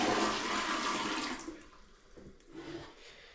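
A bucket of water dumped fast into a toilet bowl to force a flush, a loud rushing gush for about a second and a half that drains away into quieter gurgling trickles.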